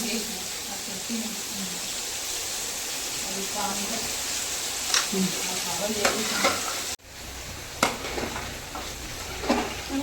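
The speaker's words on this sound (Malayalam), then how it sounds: "രണ്ടാം പാല് പാർന്നത് തിളച്ചിക്കണ്" Coconut milk with sugar simmering for Kerala payasam, a steady frying-like bubbling hiss with scattered stirring clicks and soft spoon scrapes, close and continuous, dipping briefly before resuming.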